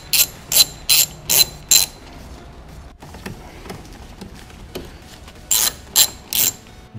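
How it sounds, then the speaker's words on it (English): A hand ratchet loosens 8mm screws holding the engine cowl on a BMW N54, giving a close, loud burst of five rapid clicking strokes, then a quieter pause with faint handling noise, then three more clicking strokes. "Then you have 2 8mm screws on each side that hold the cowl on. Go ahead and remove those."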